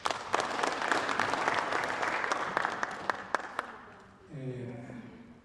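Symposium attendees clap for several seconds after a closing speech, the applause thinning out before a voice begins talking.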